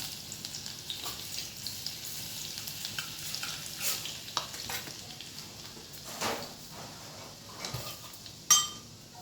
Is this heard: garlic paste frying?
yes